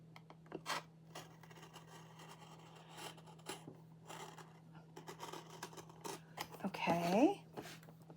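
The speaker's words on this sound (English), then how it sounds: "I think I'm going to cut this out." Scissors snip through paper at a craft table in a few short, crisp cuts, with soft talking around them and a quicker burst of cutting near the end.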